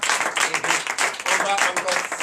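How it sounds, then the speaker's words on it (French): A church congregation claps and cheers loudly during an evening deliverance service, dense continuous applause with rhythmic hand-clapping throughout. "je vous demande d'applaudir très fort"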